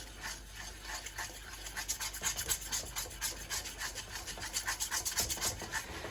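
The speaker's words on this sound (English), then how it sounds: "Keep stirring all the time, otherwise it will go lumpy." A thickening custard mixture for a summer fruit tart is stirred steadily in a pan, giving a continuous rubbing, scraping sound with rhythmic strokes at close range and no talking.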